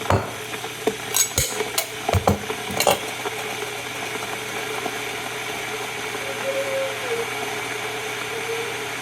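A coffee pot and dishes are handled in a kitchen, with a few sharp clinks and knocks in the first three seconds, then a steady low hum and faint rustling.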